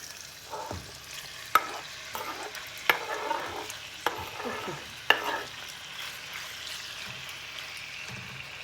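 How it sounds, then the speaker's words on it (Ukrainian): Pasta with chicken sizzles steadily in a frying pan, with several sharp clacks and scraping stirs breaking through the soft crackle; no voices. "І хай воно смажиться."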